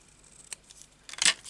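Scissors cut paper for a junk journal: a faint early snip, then a louder, crisp double cut near the end, close and alone in a quiet room.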